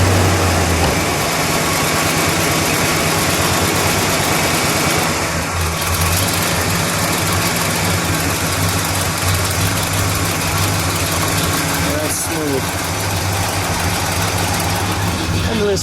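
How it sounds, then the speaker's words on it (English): A 1970 Pontiac GTO Judge with a 400 Ram Air V8 idles close by, a steady, loud, lumpy rumble that holds throughout with little variation. "And listen to that idle."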